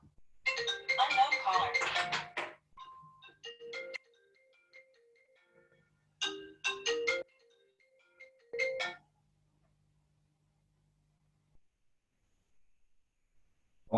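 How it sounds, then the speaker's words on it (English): Mobile phone ringtone sounding in a lecture hall during a topology lecture, a bright melodic electronic tune in bursts with pauses between them, then ringing again twice before it stops. "Oh, sorry, I forgot to turn off my phone"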